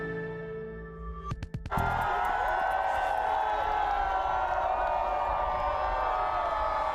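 A crowd at a charity cold-water plunge into the frigid waters of Lake Ontario cheers and shouts, a loud continuous roar of voices that swells in after a few sharp clicks and holds steady.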